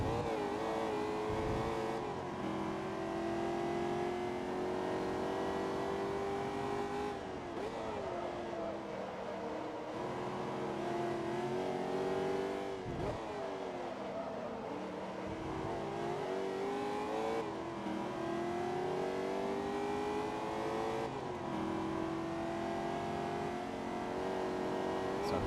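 A Chevrolet El Camino in Forza Motorsport 2 revs and pulls through its gears, the engine note climbing repeatedly and dropping at each shift across a long stretch, loud and continuous.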